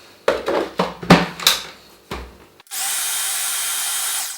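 A food processor whizzing digestive biscuit crumbs with melted butter, starting after a few clattering knocks and then running as a steady, loud, bright whirr to the end.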